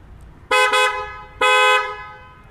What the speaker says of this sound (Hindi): सो अब हम आपको थोड़ा हॉर्न बजा कर दिखा देते हैं